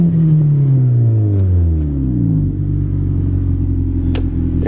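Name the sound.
1990 Honda car engine while driving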